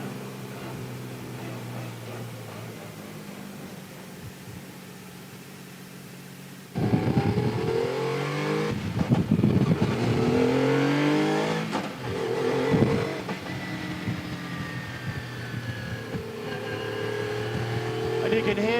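A Metro 6R4 rally car engine rumbles as the car drives slowly. The steady low drone jumps louder partway through and keeps building with throttle swells, close and dominant throughout.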